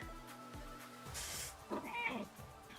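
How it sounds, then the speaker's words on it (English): A cat named Mugen meows close by, two short low calls followed by a longer drawn-out meow, with faint rustling in between. "Including some big meows."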